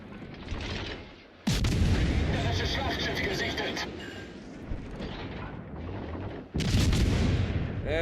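Naval artillery from World of Warships Legends, heavy booming shell fire with loud blasts around the two-second and six-and-a-half-second marks, rumbling continuously in between beneath a voice talking.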